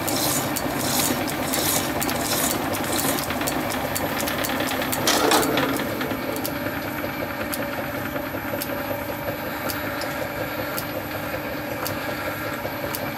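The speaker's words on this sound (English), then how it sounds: "move the tool out of the way and put a chamfer on that" A metal lathe machining a chamfer onto the edge of an engine cylinder, giving a steady mechanical whir with a rhythmic ticking of tool chatter, close and continuous, with a brief louder cutting burst partway through.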